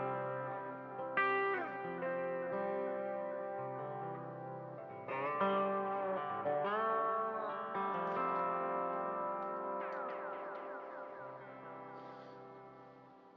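Sustained electric guitar notes with long repeating delay echoes and a big reverb wash, trailing tails overlapping softly at a gentle level.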